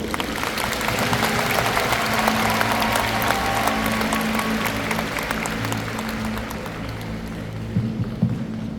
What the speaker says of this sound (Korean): 나오실 때 박수로 모시겠습니다.